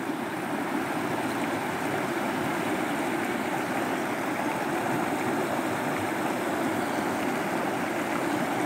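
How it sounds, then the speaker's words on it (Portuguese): Water rushing over the spillway of the Araras reservoir at Cariré, a steady, full roar like a stream or surf that holds evenly loud for the whole stretch, with no voices over it. "Esse som das águas é maravilhoso."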